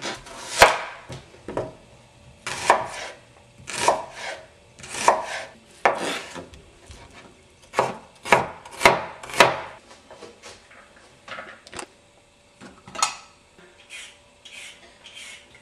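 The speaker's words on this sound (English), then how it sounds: "I'm going to cut this onion up quite fine." A knife chops an onion finely on a wooden board for sausage rolls, with irregular bursts of sharp, close taps, some in quick clusters, separated by short quiet gaps.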